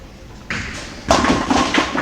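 A bowling ball strikes the pins for a spare, a sharp close clatter of pins that rings on briefly after an earlier softer impact.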